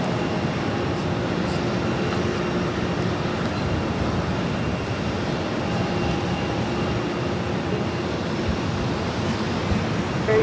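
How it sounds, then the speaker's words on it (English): JetBlue Airbus A321neo arriving at Boston Logan from Amsterdam, a steady, broad roar of jet engines that holds constant for the whole stretch without talk. "This is JetBlue Airways Flight 32 coming in from Amsterdam on an A321 NEO."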